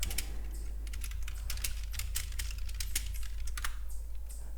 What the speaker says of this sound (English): you do hear me typing because I do make alerts throughout the day too